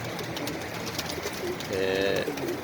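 Pigeons coo in a loft, a low rolling coo swelling clearly near the end over a steady background murmur, with no talk.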